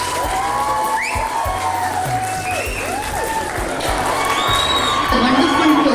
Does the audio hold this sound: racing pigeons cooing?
no